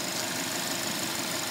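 A turbocharged 2.0-liter four-cylinder in a 2009 Subaru WRX STI hatchback idles with a steady, dense, close-up engine drone and hiss, alone without voices.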